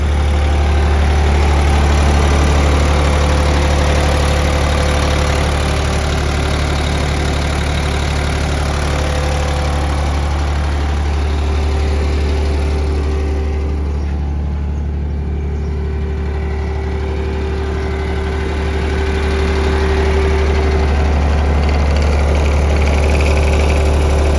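A Sakai TW250 road roller's three-cylinder engine idles loudly and steadily up close, a continuous low rumbling drone with no talking.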